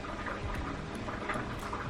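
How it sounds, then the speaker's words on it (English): Refreshing garden-scented fragrance liquid poured into a jar, a steady continuous liquid trickle and bubbling that runs unbroken through the whole stretch at moderate, even loudness. "Now I'm going to pour some of this refreshing"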